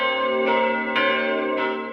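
Church bells ring out loud and close from a bell tower, three resonant strikes about half a second apart, their tones overlapping and sustaining between hits.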